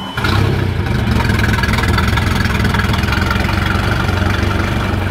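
A Bayliner boat engine catches and settles into a loud, steady idle close by, its even rumble running continuously with no talk over it.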